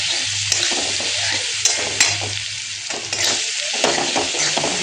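Lightly fried mango pieces get stirred in a pan with a spoonful of garam masala, a bright crackling sizzle with repeated scraping and tapping strokes of the spatula, close and steady.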